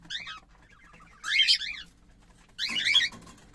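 Cockatiel chicks that have left the nest give harsh, raspy begging calls in two or three loud bursts, close by, with quiet gaps between them.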